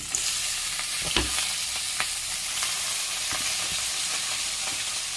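Ponnanganni greens hitting a pan of sautéed onions, a continuous close sizzle and hiss with scattered stirring scrapes and taps, no voices.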